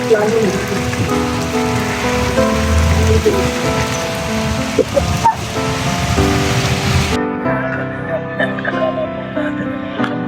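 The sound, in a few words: rain falling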